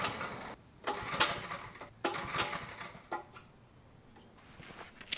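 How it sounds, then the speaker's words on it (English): A pressure washer's small gas engine is pull-started three times in quick succession, each tug giving a short sputtering rasp that dies away without catching, followed by quieter fumbling and silence. "So now my pressure washer's not starting."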